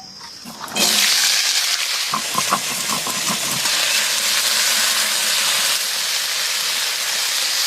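Long beans fry in mustard oil in a wok, a loud steady hiss and sizzle that bursts in suddenly and holds without a break, with no voices over it.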